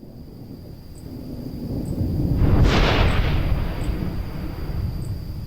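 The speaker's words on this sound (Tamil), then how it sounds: "தண்டர் சவுண்டு அந்த மாதிரிலாம் நெட்டில் டவுன்லோட் பண்ணிக்கிட்டேன்" A downloaded thunder sound effect rolls in from a low rumble, swells to a loud crack and boom around the middle, and then fades into a long fading rumble.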